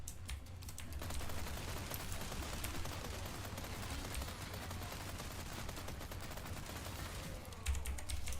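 Tommy gun in Resident Evil 4 Remake firing in rapid continuous rattling bursts, a steady staccato stream of shots over a low rumbling background, with brief pauses at the start and end.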